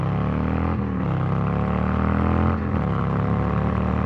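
A 2020 Harley-Davidson Fat Bob motorcycle accelerates on cold, slippery ground, its engine roaring loud and close with a steady drone that dips briefly twice, as if between gear changes.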